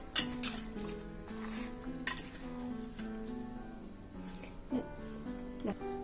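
Chicken being mixed by hand or spoon with masala in a bowl for a Kerala chicken thoran, with faint, intermittent clinks and scrapes of utensil against the bowl over a quiet background.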